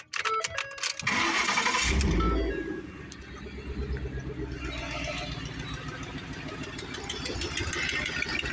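A Ford 5-liter Coyote V8 cranks and fires up loudly, then settles into a steady, close idle with a light manifold tick under the rumble.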